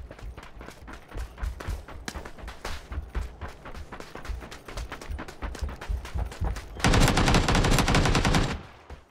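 Heavy gunfire in PUBG, a long run of sharp repeated shots with uneven rhythm, followed by a dense sustained burst of fire near the end, loud and close with no talking.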